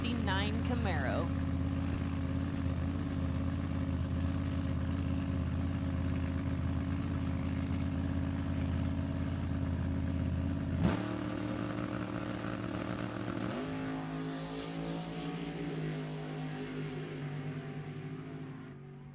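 A 1963 Corvette with a 481 cubic inch Chevy motor and a 1969 Camaro idle at a drag strip, a loud steady engine drone that shifts abruptly partway through before fading, with an announcer talking over it.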